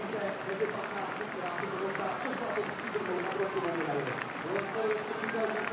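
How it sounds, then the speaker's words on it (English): Spectators applaud at a canoe slalom race, clapping spread along the course and fairly distant. It sits under a commentator who talks continuously throughout. "appreciation from the spectators"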